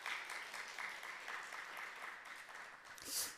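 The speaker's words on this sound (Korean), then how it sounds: "우리 3사 여선교회 다시 한번 크게 박수해 주세요" A church congregation gives a round of applause for the women's mission group at a Friday late-night prayer service, a steady, moderately quiet patter of many hands clapping that swells briefly near the end.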